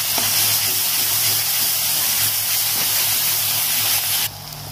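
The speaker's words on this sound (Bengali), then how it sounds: "দিয়ে পেঁয়াজ আদা রসুন সব একসাথে ভালো করে আর ভেজে নেবো" Ground onion, ginger and garlic paste frying in a pan, a loud, dense, continuous sizzling hiss with a low steady hum beneath, dropping suddenly quieter just before the end.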